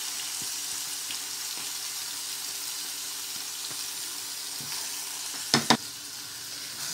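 About a kilo of boneless chicken leg-thigh pieces fry in a pan, a steady soft sizzle with a few light stirring knocks and two sharp clatters near the end.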